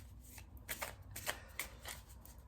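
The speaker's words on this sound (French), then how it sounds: "on brasse encore une fois" Tarot cards being shuffled by hand in a run of soft, papery riffling bursts, close and fairly quiet, with no talking.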